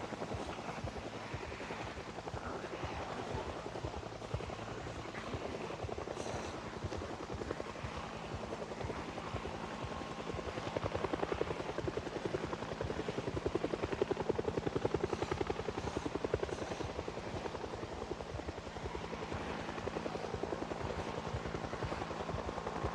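A helicopter in Project Zomboid drones steadily overhead for the whole stretch, its low rotor thump continuous and fairly loud, swelling a little toward the middle before easing off.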